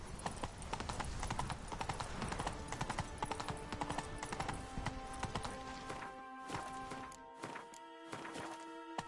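A horse's hooves clip-clop at a steady walking rhythm in The Witcher 3, close and fairly quiet, over a dense game soundscape of music and ambience.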